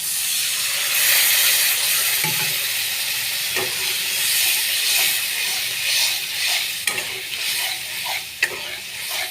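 Ground poppy seed paste hits softened, cooked-down tomato in a hot pan, giving a loud, steady close-up sizzle and hiss with occasional stirring knocks.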